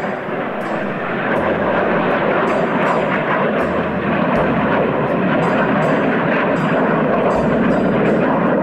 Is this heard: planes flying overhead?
yes